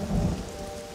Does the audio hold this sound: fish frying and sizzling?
no